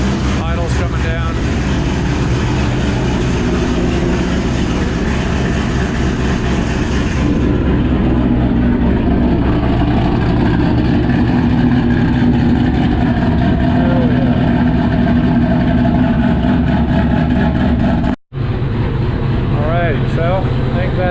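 A Ford GT500 fitted with an intercooler ice tank system idles steadily, its low engine rumble continuous throughout, with the idle settling lower; a brief cut near the end breaks the sound.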